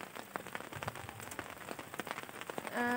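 Drizzling rain pattering steadily on surfaces at a pine forest campsite, a dense close spatter of drops with a brief tonal hum coming in at the end.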